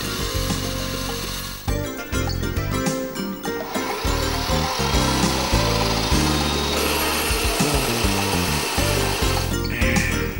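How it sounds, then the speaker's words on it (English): A power saw fitted with a Motoyuki Global Saw blade whines steadily at close range while cutting wood, its motor droning loudly throughout with short dips and surges as the blade bites in. "Begin cutting when the power tool has reached a sufficient rotation speed."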